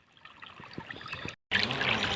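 Water trickles and splashes while a farm field is irrigated, a close, irregular gurgling flow that cuts out briefly before returning louder and fuller.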